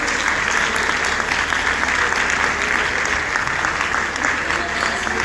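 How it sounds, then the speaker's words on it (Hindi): Audience at a university debate semi-final in Lahore applauds steadily to welcome a guest, a dense continuous clapping from a large indoor crowd, loud and even throughout. "आप सब भरपूर तालियों में अख्तर उस्मान साहब का इस्तकबाल कीजिए।"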